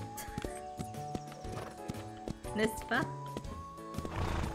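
A Minecraft horse lets out a whinny amid rhythmic clip-clop hoofbeats, while a person talks over the game sounds and background music.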